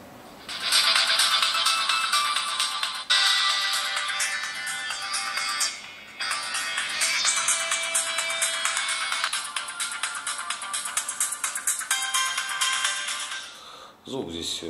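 The loudspeaker of a Lenovo A536 smartphone plays a ringtone: a loud, bright, trebly melody that runs continuously for most of the span, with a brief dip partway through and a cutoff near the end.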